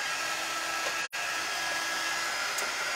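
A hair dryer blowing steadily on a freshly painted frame, a continuous close whooshing hum with one brief cutout partway through, no talk.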